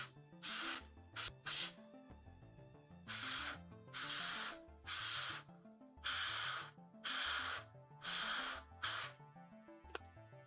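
An airbrush spraying paint onto a Games Workshop Thousand Sons miniature, repeated close hissing bursts of about half a second to a second each, with gentle music playing underneath.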